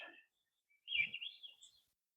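A thrush gives a short, clear whistled phrase, faint and slightly distant, against near silence in Oregon's coastal rainforest at Cape Falcon.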